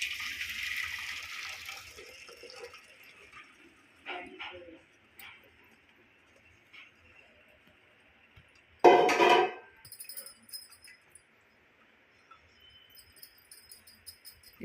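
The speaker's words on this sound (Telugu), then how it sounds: "ఇలా జాలీలో పోసుకోండి" Boiled noodles tossed with a little oil are poured into a mesh colander, their water rushing and splashing through for the first couple of seconds, then softer trickles and a sharp clattering burst near the end.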